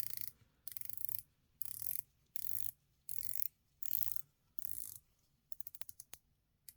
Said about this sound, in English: you don't need to put too much torque in while turning the bezel